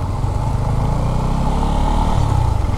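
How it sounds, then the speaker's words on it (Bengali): Two motorcycles riding past together, one a Bajaj Pulsar F250, with a loud, steady engine drone close by throughout and no voices. "রাইডে বেরোইছে 2 বাইক একসাথে।"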